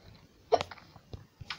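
A single sharp hiccup-like burst stands out, followed by a few smaller clicks and short bursts against a quiet background, with no talking.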